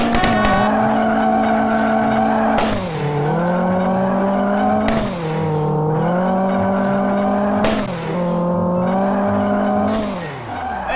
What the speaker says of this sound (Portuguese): Vamos ver quantos segundos faz com o pneu de arrancada.